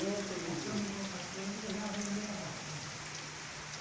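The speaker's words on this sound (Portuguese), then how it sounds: "A chuva chegou, pessoal," Steady rain pours down outdoors, a dense, even hiss of drops filling the whole stretch while a voice talks over it.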